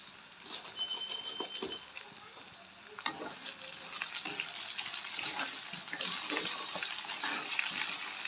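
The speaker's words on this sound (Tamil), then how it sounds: "உருளைக்கிழங்கு கொஞ்சம் அந்த பொன்னிறமாக வதங்கி வர்றதுக்கு" Potatoes fry in hot oil in a pan for a Jaffna-style home meal, giving a steady close sizzle and crackle with scattered small pops and a stir, with no talking.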